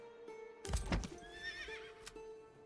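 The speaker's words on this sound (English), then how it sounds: "Oh, these are the horses." Horses in the medieval town-building game Manor Lords give a clear whinny over soft clip-clop hooves and a low ambient hum, with a sharp thud or two, heard without any talking.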